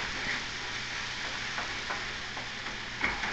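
Masala for rajma kidney bean curry frying in a pan, a dense, steady close sizzle with a few soft stirring knocks running through it.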